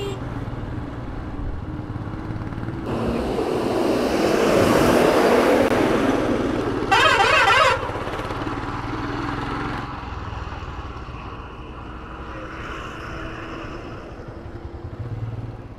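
Vehicles pass on both sides of a motorcycle on the road from Srinagar toward Kargil and Sonamarg, a swelling engine roar as traffic goes by close, one short sharp rattling burst, and a steady rumble of riding underneath.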